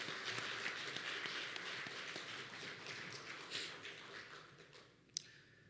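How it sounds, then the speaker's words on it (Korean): A church congregation claps for the choir at a year-end worship service, soft and fairly distant applause that gradually fades, ending with a single sharp tap. "다시 한 번 더 우리 박수로"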